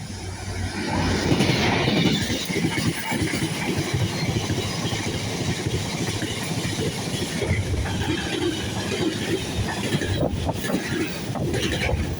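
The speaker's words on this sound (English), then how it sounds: "Here comes 66767 on a GBRF freight service from Felixstowe." GBRF class 66 locomotive 66767 hauls a freight train from Felixstowe past Stowmarket, giving a loud, sustained rumble with continuous wheel-on-rail clatter and wind buffeting, close by.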